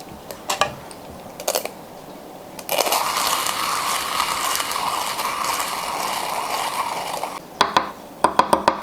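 A KINU M47 Traveler manual coffee grinder grinds beans in a continuous gritty, crunching burr sound lasting several seconds, with light clicks and handling knocks before and after.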